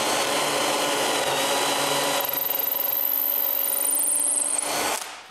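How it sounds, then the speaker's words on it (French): A power drill bores pilot holes in wood for mounting screws on a pivoting mobile cart, with a steady, close-up whirring grind that runs for about five seconds and then stops. "Percer des trous pilotes"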